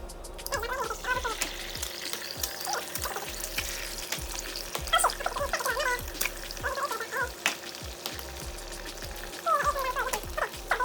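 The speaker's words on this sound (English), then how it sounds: "I'm scrambling my eggs" Eggs are being scrambled in a hot pot for shrimp fried rice, giving a quiet sizzle with repeated scraping and stirring taps in an irregular rhythm, some with a wet, watery edge.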